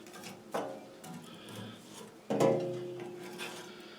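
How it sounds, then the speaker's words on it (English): Thick grease is peeled and scraped off a Massey Ferguson GC2300 front end loader part: soft, close rasping and rubbing with two louder scraping strokes, quiet overall. "I'm just going to try to peel this grease off and let it fall right here in the bucket"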